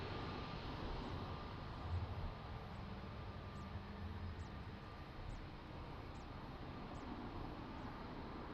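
An Air Canada airliner in Star Alliance livery on runway 02 at Lisbon Airport gives off a steady, distant jet roar that holds for the whole stretch without a break.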